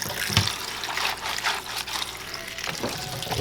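Vegetables are rinsed and rubbed under a running kitchen tap, producing a close, continuous splashing hiss of water with brief swells and rustles as they are handled.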